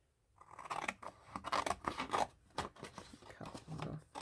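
Scissors snip repeatedly through paper being trimmed for a collage, a close, crisp run of uneven cuts that continues throughout.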